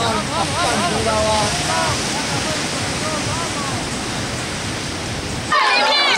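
Rough sea surf on a beach during a youth biathle championship gives a continuous heavy roar of breaking waves, with a voice calling out over the noise.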